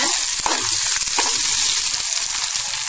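Loud, continuous sizzling of chopped green chili and onion frying in oil in a pan, with a few soft stirring knocks.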